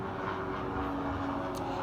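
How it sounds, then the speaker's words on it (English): An airplane passes overhead as a faint, steady, low droning rumble that stays even throughout, with no talk over it. "We'll just wait for that plane to go by."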